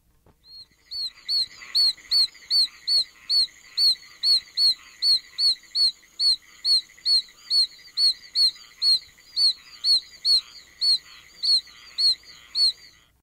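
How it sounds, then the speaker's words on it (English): An oak toad (Bufo quercicus), the smallest North American toad, gives a very high, thin peeping call, repeated in a steady series of about two dozen evenly spaced chirps, clear and alone against silence. "the smallest toad in North America, the oak toad, Bufo quercicus, scarcely over an inch long, has the highest pitch voice of them all"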